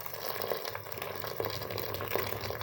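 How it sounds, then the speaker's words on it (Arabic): Hot water pours steadily into a pot with a continuous close splashing rush and faint gurgles, one unbroken stream without talk. "دابا عندي الماء طايب، ان شاء الله غادي نصب الماء ديالي."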